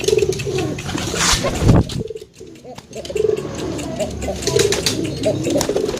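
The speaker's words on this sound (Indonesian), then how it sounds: "Ini si Raja salah satu merpati yang cara penjodohannya seperti yang saya bilang tadi ya teman-teman." Domestic racing pigeons coo repeatedly at close range in a loft, low throaty calls over a busy background of other birds and rustling, with a brief louder burst near the middle.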